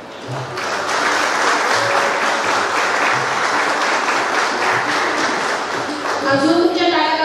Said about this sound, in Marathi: अजून तुमच्या टाळ्या वाजल्या पाहिजे